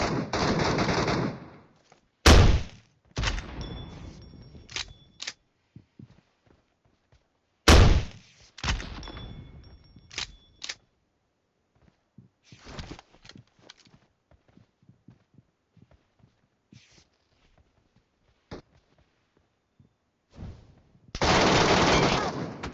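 Gunfire in PUBG Metro Royale: loud, close automatic bursts at the start and end, with scattered single shots, thuds and distant pops in between and quiet gaps.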